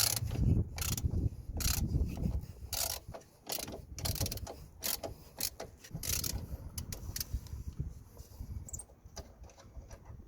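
Metal clicks, ratcheting and clanks from a spanner freeing the 14mm bolt on a brake hose clamp of a Toyota Yaris (Vitz) during a front brake hose job, close and busy with irregular bursts and no talk.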